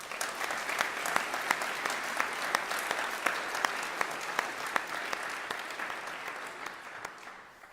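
Sustained applause from an audience at a motorsport team's launch night, steady dense clapping with a few sharper claps standing out, fading slightly near the end.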